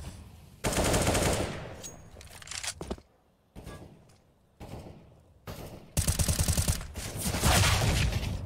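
Automatic rifle fire during a Counter-Strike match, loud rattling bursts separated by brief gaps and quieter stretches, with the sustained spray returning near the end, close and without talk.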